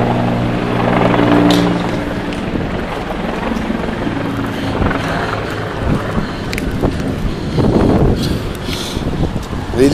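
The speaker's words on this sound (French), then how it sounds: "Provincial Police Chopper just went east quite fast." A Quebec provincial police helicopter passes fast overhead heading east during a May Day 2014 protest in Montreal, giving a loud, steady rumbling drone with low throbbing tones, mixed with wind buffeting across the whole stretch.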